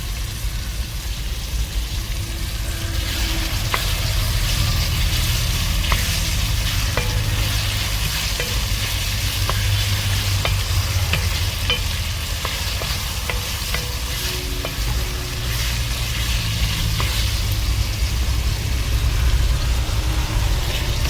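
Chicken gravy masala sautéing in a pan gives off a loud, dense, sustained sizzle, with frequent stirring clicks and scrapes running through it and no voices.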